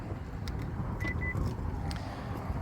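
A 2026 Genesis GV70 2.5 Sport locks its doors from the handle button: a couple of short electronic beeps and faint clicks over steady outdoor background noise.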